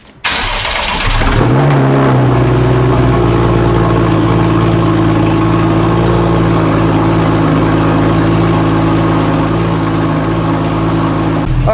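Straight-piped Porsche 911 with a 3.8L engine and a new tune cold-starts with a sharp crank and catch, then settles into a loud, steady, rumbling high idle that holds for the rest of the clip.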